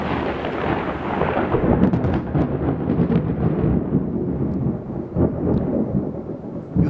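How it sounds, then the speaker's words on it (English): A lightning strike sets off a heavy roll of thunder, loud and near, with crackling bursts early that fade into a long low rumble and a final crack. "lightning strike and thunder make me very relax"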